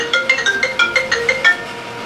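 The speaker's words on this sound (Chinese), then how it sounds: "玉皇大帝，您的电话。" A phone ringtone plays on its own: a short run of bright, repeated electronic melodic beeps, clear and close, lasting about two seconds.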